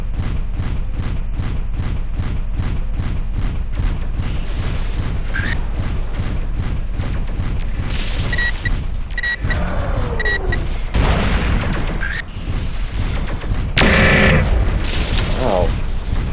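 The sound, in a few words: mech weapons firing in video game MechWarrior 4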